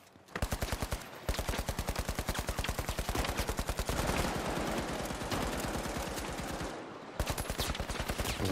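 Rapid, evenly spaced gunshots hammer away loud and close in the video game The Finals, running almost without pause across several long bursts broken by two brief gaps.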